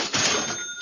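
A cash register rings out once with a bright, close metallic chime that lingers briefly and fades.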